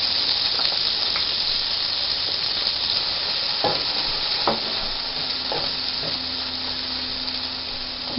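Finely chopped onion sizzles in butter in a hot skillet, a steady loud hiss with occasional clicks of stirring, close up and with no talking.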